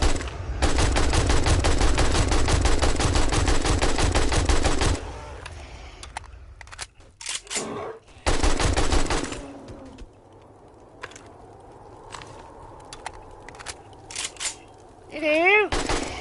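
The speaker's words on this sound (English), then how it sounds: "Feel the wrath of a level 1 AK." Rapid bursts of AK rifle fire in the video game 7 Days to Die, set in a wasteland: a long sustained volley, then scattered single shots and a second volley, with bird-like chirps and a voice between bursts.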